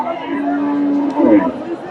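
A Friesian cow at the Dhaper Haat cattle market in Bogura gives one long, close, loud moo that swells near the end, with faint market noise behind.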